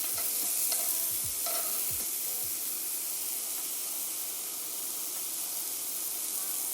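Onions and sauces sizzle and hiss in a frying pan while a vegan French dip filling cooks, with a few stirring scrapes early on, then a quiet, even frying hiss.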